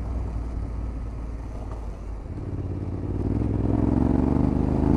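A Yamaha T7 motorcycle climbs a wet, slippery forestry track of round stones, its engine a steady drone that swells and grows louder toward the end.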